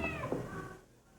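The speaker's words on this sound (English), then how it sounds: "the cat in a very tight spot" A cat stuck in a very tight spot gives one drawn-out, wavering meow, close and clear, then fades to quiet.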